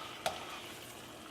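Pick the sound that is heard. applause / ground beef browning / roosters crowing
ground beef browning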